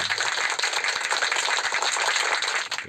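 Applause sound effect from the KineMaster editing app: a dense, steady round of many hands clapping, fairly loud and even throughout, with no voices over it.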